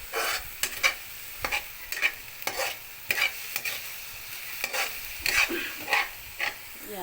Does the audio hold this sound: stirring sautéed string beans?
yes